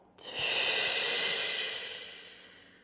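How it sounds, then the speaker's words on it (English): A deep exhale during a yoga exercise, one long, close, airy breath out that starts sharply and fades gradually over a couple of seconds, with no talk. "Take a deep breath in. And a deep breath out."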